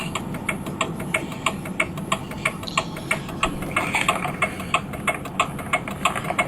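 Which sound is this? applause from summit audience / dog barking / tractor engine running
tractor engine running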